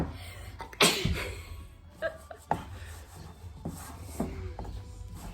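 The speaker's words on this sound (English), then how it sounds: "Sneeze." A single sharp sneeze bursts out near the start, followed by quiet rubbing and shuffling noises nearby.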